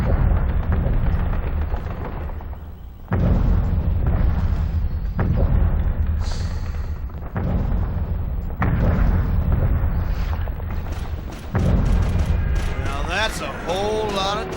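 Heavy tank and artillery fire in the World War II shooter Call of Duty 2, repeated loud booming blasts and rumbling over continuous battle noise.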